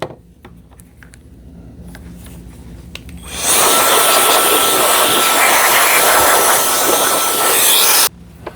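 An air blower hisses hard, blowing dust off the brush roller of a Dreame X60 Ultra robot vacuum. Quiet handling noises come first, then a loud, continuous rushing blast lasts about four and a half seconds before cutting off.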